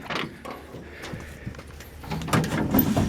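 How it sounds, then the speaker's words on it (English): Doors on a 1965 Chevrolet C-10 shortbed pickup swing open and shut, giving a few dull knocks and a louder latching thud near the end, close by with faint background rustle. "Doors open, close really easily."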